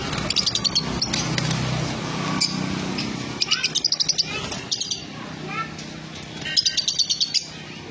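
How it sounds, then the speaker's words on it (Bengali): Several pet cockatiels and lovebirds chirp and tweet in quick repeated bursts close by in a home, over a steady low hum of background noise. "এই পাখিগুলো আছে বাড়িতে।"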